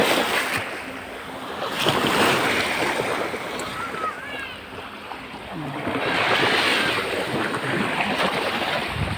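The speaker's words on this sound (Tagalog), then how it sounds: "kahit mainit, napakaganda at napaka-fresh ng dagat" Sea waves wash onto a beach on a hot day, swelling and receding twice in broad surges under wind noise, fairly close, with no speech.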